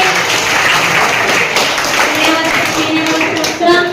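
Loud, steady applause from a school audience at a maths quiz competition, sustained clapping across the whole stretch with a brief surge near the end and faint voices mixed in.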